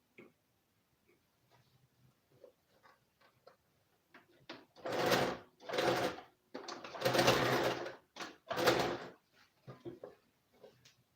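A sewing machine stitching in short bursts, with quiet ticking and handling at first, then several loud, rapid whirring runs separated by brief pauses, close by; the thread is running out and it stitches poorly.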